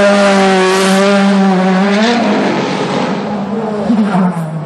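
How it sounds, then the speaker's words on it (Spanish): A 2008 Audi DTM race car at the Lausitzring powers past at close range toward its pit stop, its loud engine drone sliding down in pitch as it goes by, then a rougher rumble follows. "En este caso es Mike Rockefeller con el Audi 2008 que va a su pit stop."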